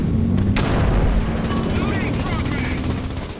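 A modern anti-aircraft gun in War Thunder fires a rapid, rattling burst after a heavy opening blast, the fast pulsing shots carrying on loud and close against helicopter and tank combat noise.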